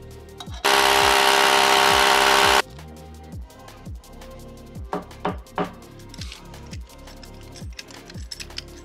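Power drill boring a hole for a pipe collar on a pool elbow and pipe: a loud, steady burst of drilling for about two seconds, followed by close clicks, taps and handling knocks.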